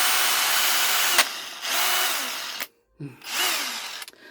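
A 50 Nm Einhell cordless screwdriver, just repaired, whirs loudly and close in first gear in several bursts, with brief dips and one full stop before it spins up again.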